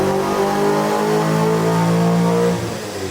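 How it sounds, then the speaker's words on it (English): A BMW E39 M5 V8 revs hard on a dyno, its loud, steady engine drone holding near full throttle for about two and a half seconds before easing off. No one speaks. "This V8 car, I wish I could dyno it stock"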